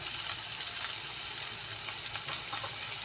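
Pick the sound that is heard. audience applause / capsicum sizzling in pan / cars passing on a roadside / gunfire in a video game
capsicum sizzling in pan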